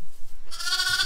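A pet lamb kept in a horse box gives a single loud, close bleat that rises sharply after a short rustling start, with no talking over it.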